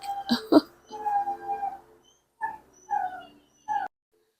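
A puppy whimpers nearby in a quiet room, a few high, thin whining cries in short separate bursts with pauses between, fairly faint.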